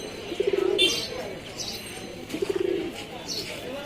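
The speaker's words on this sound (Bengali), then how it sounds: "হরিনারায়ণপুর বাজার, কবুতর বাজার" Pigeons cooing at a busy pigeon market, two soft throaty coos close by amid faint crowd murmur and a few chirps.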